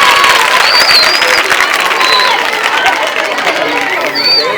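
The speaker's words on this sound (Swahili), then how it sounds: "Makofi mengi tafadhali." A crowd at a school event claps in a loud, dense, sustained patter, with children's shouts and whistles mixed in.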